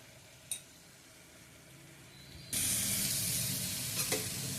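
Ghugni is sautéed in a pan. A faint background with one brief clink gives way to a sudden loud, hissing sizzle that continues to the end, with a couple of soft scrapes.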